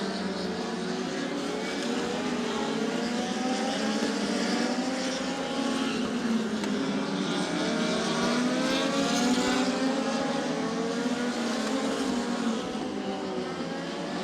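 ACT stock cars race at Twin State Speedway in Claremont, New Hampshire, a loud, sustained roar of several engines with rising and falling pitch as cars pass, steady throughout.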